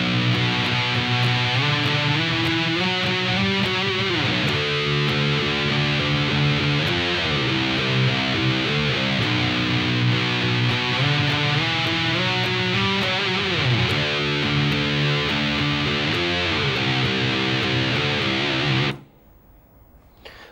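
Distorted electric guitar plays a slow, heavy riff, loud and steady with sustained chugging chords, alone, until it cuts off into silence near the end.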